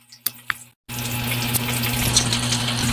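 Eggplant and galunggong fish frying in a pan, a couple of faint taps and a brief pause before a steady, close sizzling hiss takes over.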